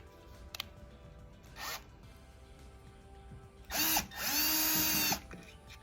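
A power screwdriver drives small Phillips screws back into a Miele dishwasher panel, giving a short whir near the start and a longer, louder buzzing run near the end, close up with no talk.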